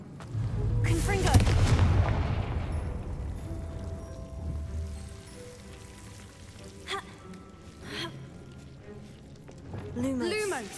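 A Confringo blasting spell is cast in Hogwarts Legacy, a booming fiery burst early on followed by crackling rumble that fades, with voices speaking over it and later smaller magical whooshes.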